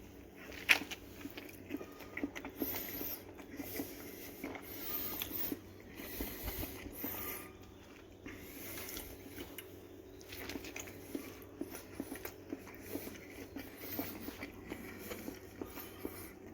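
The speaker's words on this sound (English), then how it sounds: "time for a nice lettuce taste test." Hydroponic lettuce topped with ketchup is bitten and chewed close to the mic, with soft crunchy, wet bites and steady mastication repeating quietly throughout, with no talk.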